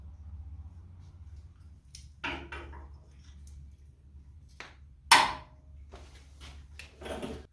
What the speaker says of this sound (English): stick my transfer punch in from this side and give it a few taps